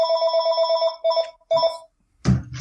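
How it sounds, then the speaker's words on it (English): A telephone bell rings in a rapid trill, sounding in three bursts with short pauses between them, close and fairly loud, in an indoor room. A thud or knock follows at the end. "that's my phone ringing"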